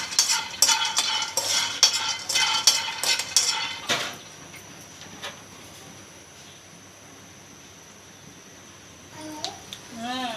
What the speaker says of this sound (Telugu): ఈ నువ్వుపప్పు ఉండలకైతే ఫస్ట్ వేరుశనగ గుళ్ళు వేపుకోవాలండి బాగా